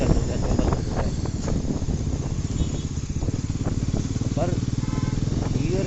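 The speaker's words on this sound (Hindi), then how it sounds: "गाड़ी का इंजन वर्क कर रहा है तो 5 मिनट चलाते हैं, देखते हैं गाड़ी में कोई प्रॉब्लम नहीं आ रही" A brand-new Bajaj Pulsar NS400z motorcycle engine idles steadily during warm-up, a close, continuous throbbing rumble running the whole time, with someone talking over it.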